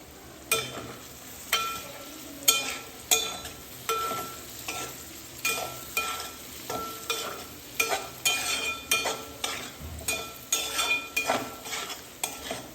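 Hing and curry leaves go into a pan for tempering, and the mixture is stirred gently with a spatula in a regular series of scraping strokes over a faint, quiet sizzle.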